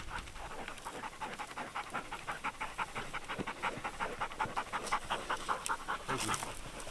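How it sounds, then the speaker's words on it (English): A hunting dog pants rapidly and steadily at close range during a bird hunt, rhythmic quick breaths repeating throughout. "I'm gonna need a dog."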